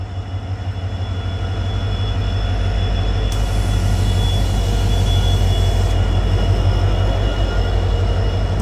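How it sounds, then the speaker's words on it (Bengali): The NJP–New Bongaigaon Intercity Express, hauled by two engines, rumbles past loudly and continuously, with a heavy low roar of wheels and carriages and a high whine above it, close by with no talk. "দেখুন দুটো ইঞ্জিন নিয়ে যাচ্ছে একটি ইন্টারসিটি এক্সপ্রেস ট্রেনকে"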